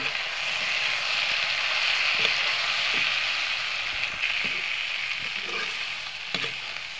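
Broiler chicken fries with meat masala in a hot pan, giving a steady, close sizzle throughout with occasional stirring scrapes and clatters.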